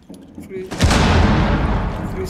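Gunfire in the video game Rainbow Six Siege: a sudden loud blast with a long, booming tail, preceded by quieter background noise.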